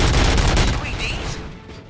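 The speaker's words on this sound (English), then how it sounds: "Gunshots? What's going on?" Rapid gunfire in RoboCop: Rogue City, a loud dense volley of shots rattling close by and tapering off toward the end, with a voice talking over it.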